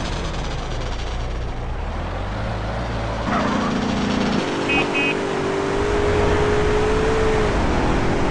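A car's engine revs and drones in GTA San Andreas, a steady motor sound with a pitch shift partway through and a rising whine near the end, under game effects.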